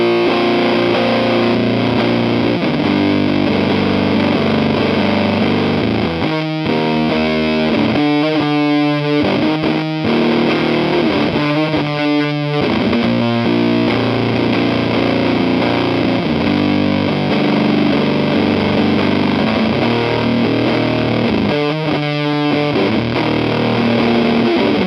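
Electric guitar played through a Beetronics Vezzpa Octave Stinger octave fuzz pedal, a thick, saturated fuzz tone with sustained chords and choppy rhythmic stabs, loud and continuous with no talking.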